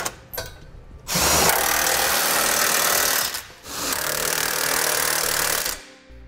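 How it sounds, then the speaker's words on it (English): Power tool driving a 22 millimeter socket to tighten trailer hitch bolts on a 2017 Honda Pilot, two loud sustained whirring bursts of a few seconds each, separated by a short pause, close and without talk. "now we'll use a 22 millimeter socket and tighten up our bolts"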